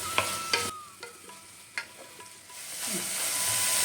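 Tomato being sautéed in a pan while making beetroot pulao: scraping stir strokes and clicks of a spoon over a steady sizzle of frying that builds louder toward the end, with no voices.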